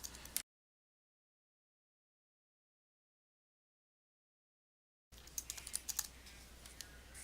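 Keys tap on a computer keyboard in a short burst at the start, then a few seconds of complete silence, then another run of quiet, uneven keystrokes close by.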